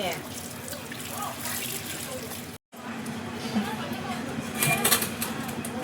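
Water pours and splashes steadily with a hissing, running sound, close by and continuous, broken by one brief gap.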